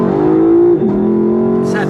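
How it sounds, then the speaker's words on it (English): A 2018 Lexus LC500's active exhaust rumbles in a steady, throaty growl with a brief dip partway through, loud and close, while people talk over it. "Pretty outstanding sound of the exhaust, isn't it?"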